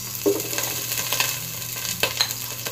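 Sliced onion frying in a hot pan with ginger for a Waray coconut-milk stew, a steady broadband sizzle with a few louder crackles and spoon scrapes, close up and with no talking.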